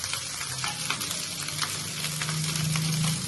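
Vinegar is poured into lemon rice in a hot pan, and a steady close sizzle with a low frying hiss follows, without speech.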